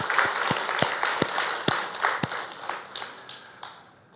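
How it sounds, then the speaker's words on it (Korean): A church congregation gives a short round of applause during a Sunday service. Distinct, sharp claps ring out at first, then soften into scattered, fading clapping. "우리 축하하고 감사하는 박수 하겠습니다."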